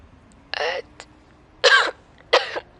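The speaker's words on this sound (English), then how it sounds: "Oda cuts off, coughing. It's a wet, painful noise" Three harsh, throaty, wet coughs spaced apart, close and fairly loud, with a brief click between the first two; the bursts sound rough, painful and strained.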